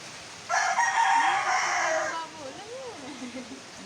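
During a street flood in the Philippines, a rooster crows loudly once, a long bright call, followed by softer clucking from chickens nearby.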